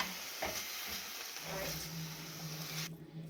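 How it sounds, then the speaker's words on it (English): Beef browning in a pan for a slow-cooker stew, giving a steady close sizzle with faint stirring scrapes, cut off abruptly near the end. "I'm now browning off the beef."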